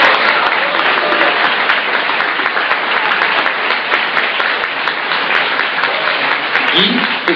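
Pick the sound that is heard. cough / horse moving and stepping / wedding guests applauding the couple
wedding guests applauding the couple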